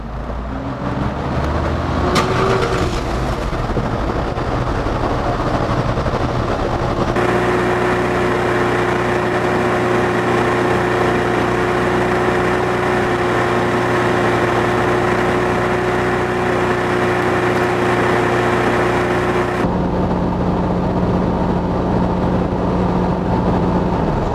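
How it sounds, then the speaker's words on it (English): A 3-litre Jaguar XF diesel engine cranks and catches, then settles into a steady, loud idle hum that runs on before the tone shifts near the end, as a diagnostic DPF regeneration begins. "Start the engine."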